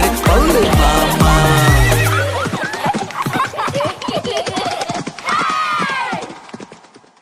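A horse whinnies loudly at the start, its call falling in pitch, then brisk clip-clop hoofbeats follow as a sound effect within a Tamil children's Bible school song, with more neighing near the end.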